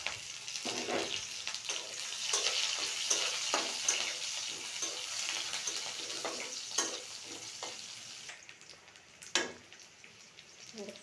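Cumin seeds and chopped onion fry in hot oil with a steady, fairly loud sizzle, broken by repeated stirring scrapes and a sharper clatter near the end, with no talking.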